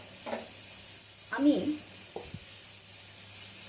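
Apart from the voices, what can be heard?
vegetables frying in a pan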